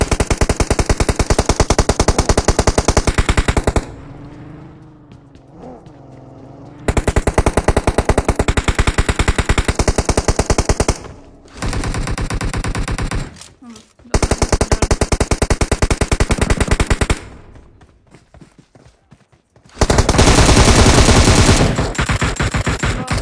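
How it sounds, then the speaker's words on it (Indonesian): Long, loud bursts of machine gun fire in a battle royale video game, broken by short pauses and one quieter stretch. The rapid shots sound close and dominate the whole clip. "Ada tembakan tadi."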